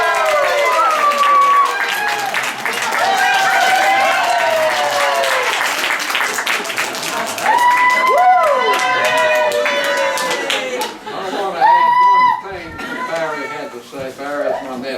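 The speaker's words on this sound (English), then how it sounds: "Your applause for candidate number 1." Guests at a 100th birthday party applaud for a candidate, clapping and cheering in a loud, lively crowd, with high excited voices and shouts rising over the clapping.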